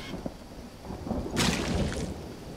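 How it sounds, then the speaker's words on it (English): Rain begins in the jungle survival game Green Hell, a soft patter that builds into a sudden crackling burst of thunder midway, with low rumbling underneath and no talking. "here comes some rain"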